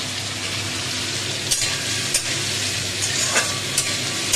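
Green chillies and ginger paste fry in a pan with a loud, close, continuous sizzle, broken by a few sharp scrapes and taps of stirring.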